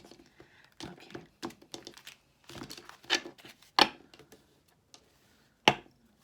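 A tarot deck is shuffled by hand in scattered bursts of soft riffling, tapping and sharp card snaps, close and uneven, with quiet pauses between the bursts.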